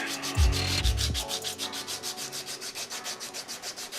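Hand sanding on a wooden bandsaw box makes rhythmic back-and-forth rubbing strokes, close and even, after a brief low thump at the start.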